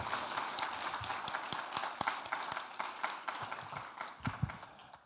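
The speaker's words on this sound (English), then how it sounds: "please give a big round of applause for all these people that we need to recognize" Scattered clapping from an audience at a high school fall sports awards night, individual claps distinct and fairly close, holding a steady moderate level over the five seconds.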